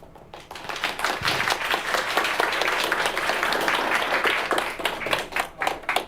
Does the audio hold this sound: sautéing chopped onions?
no